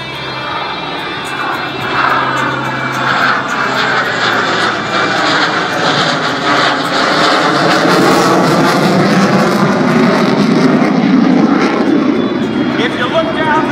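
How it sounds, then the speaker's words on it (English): An F/A-18 Hornet jet in carrier configuration roars past overhead at an air show, afterburners lit, a loud sustained engine rush that builds and sweeps through, with a voice talking beneath it. "the FA-18 Hornet carrier configuration pass"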